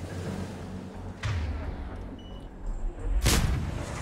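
A concussive shot fires in Mass Effect 3 amid game combat, heard as a dull boom with a sharp burst near the end over a rumbling battle background.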